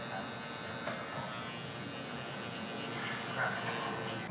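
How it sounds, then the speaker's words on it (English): A Suprent Phantom hair clipper buzzes steadily and close while it balds out a low fade haircut, a continuous electric drone with no breaks. "I'm gonna go ahead and bald out with my clipper so we can see how this thing balds out."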